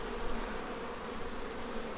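A dense, steady drone of honey bees buzzing around a hive on a spring day, many insects close by humming continuously with slight flutters in loudness and no voices.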